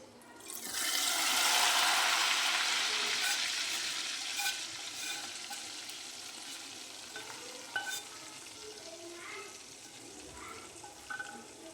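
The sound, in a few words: hot tempering oil poured into lentils, sizzling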